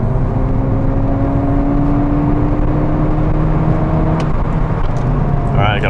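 A turbocharged 2008 Mini Cooper S pulls hard at full throttle, its engine note droning steadily and climbing slightly in pitch as it accelerates, heard from inside the car with continuous road and wind noise underneath.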